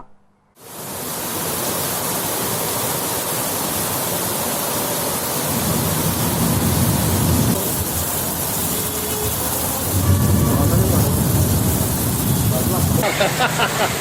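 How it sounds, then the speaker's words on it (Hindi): Heavy evening rain pours over a town, a dense, loud, continuous hiss that starts abruptly and swells in intensity partway through, with faint other noises mixed beneath. "आज देर शाम शहर सहित आसपास के क्षेत्रों में झमाझम बारिश हुई"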